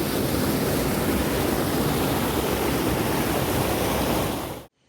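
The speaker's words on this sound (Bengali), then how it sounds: "যেটার নাম হচ্ছে ঘাগড়া ফলস, আর কিছু করার নেই। দেখুন জলের টান" Ghagra Falls roars with dense, continuous rushing water, loud and close, then cuts off abruptly at the end.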